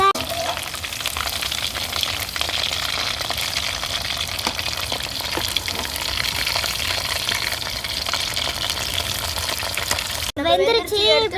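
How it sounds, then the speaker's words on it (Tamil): Chicken 65 pieces sizzling steadily in hot oil in a pan, a dense continuous frying hiss with occasional stirring scrapes throughout, loud and close, ending with a brief burst of other sound. "இப்போ நம்ம சிக்கன் 65 கிண்டி விட்டுக்கலாம்."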